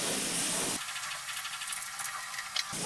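Paste of white mustard, poppy seed and green chilli, ground on a grinding stone, hitting a hot pan with tomatoes: a loud, broad steam hiss that bursts in, roars steadily for about two seconds, then cuts off.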